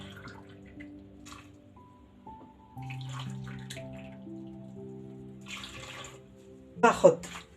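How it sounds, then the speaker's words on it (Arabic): Warm water is poured onto flour, sugar and yeast for dough, a soft trickle building into a brief louder splash at the end, close by, with quiet background tones and faint voices. "الآن دوكا نزيد لهم 2 كيسان تاع ماء يكونوا دافيين"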